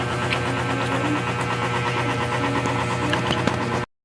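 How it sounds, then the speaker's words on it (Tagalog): A noisy household electric fan running steadily indoors, a dense continuous whirring hum with a faint mechanical rattle, loud and unbroken for about four seconds before cutting off abruptly. "Maingay yung ating electric fan."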